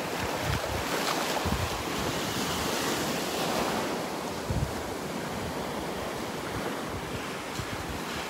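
Ocean surf washes steadily onto a beach with constant wind buffeting the microphone, a broad continuous rush with a few louder wave surges and no voices.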